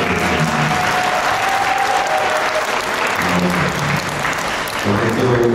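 A wedding hall audience claps steadily through a Korean wedding ceremony, dense and continuous, with faint background music or voices underneath.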